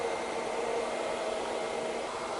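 A hair dryer blows air onto hair during blow-drying, a continuous even whoosh of airflow with a steady motor hum, close and uninterrupted.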